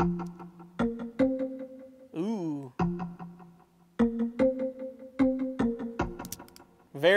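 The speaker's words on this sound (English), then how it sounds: "and I made those in Serum, and those sound like this." Short synth plucks made in Serum with a touch of echo, bright, clipped tones repeating in a bouncy melodic pattern with a brief sweeping effect between phrases, close and upfront.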